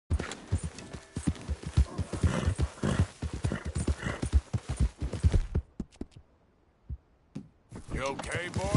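A horse gallops in Red Dead Redemption 2, its rapid, close hoofbeats pounding in a quick rhythm for several seconds before stopping abruptly, followed by a few short quieter sounds.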